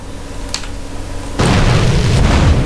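An RPG rocket detonates in GTA San Andreas, a sudden loud boom that breaks in after a quieter stretch and rolls on as a sustained, heavy blast rumble.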